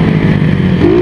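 A motorcycle engine holds a loud, steady drone on a bumpy, potholed dirt trail, with the pitch rising briefly near the end as it accelerates.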